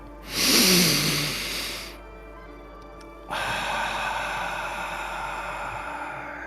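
Slow, deep breath drawn in through the nose and released through the mouth, loud and close: a strong airy inhale followed by a long steady exhale.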